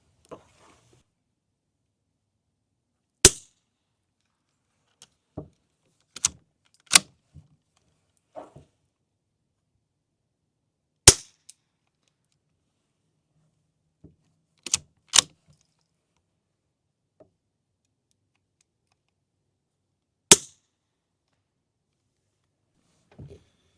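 Sharp, muffled cracks from a .22 rifle fitted with a 3D-printed suppressor ring out one at a time at irregular intervals, several in quick pairs, with near silence between shots.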